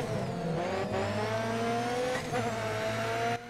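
British Touring Car race cars in Grid Autosport on Nintendo Switch, engine tones sliding down and climbing again as the cars brake and accelerate, moderately loud and steady, with no talking over it.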